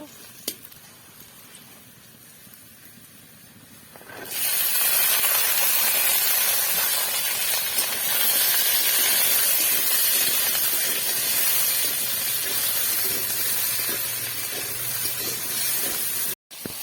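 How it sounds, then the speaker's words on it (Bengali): Potatoes and chopped onions with garlic fry in a pan, a loud, dense sizzling hiss that swells after a quieter start and holds steady to the end. "এখন আলু, পেঁয়াজ ভাজা হচ্ছে"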